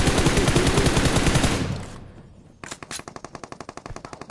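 Rapid automatic gunfire in the battle royale game PUBG Mobile: a dense burst of shots fades out, then after a short pause a fresh string of sharp, evenly spaced rounds rattles off, loud and close.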